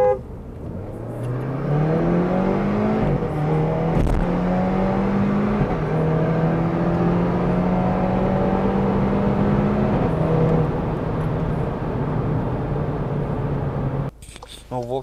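A Seat Leon FR engine revs on a dyno test, with a loud, steady drone that climbs in pitch through gear pulls and holds a high, sustained whine before cutting off near the end.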